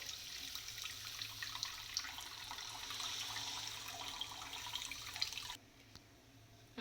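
Water poured into a cooking pan of fried spices, for a drumstick and potato masala, makes a steady rushing splash for about five and a half seconds before dropping to near quiet.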